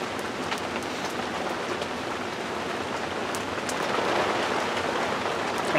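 Steady rain pattering on a surface, dense and continuous, with scattered sharper drops; no voices.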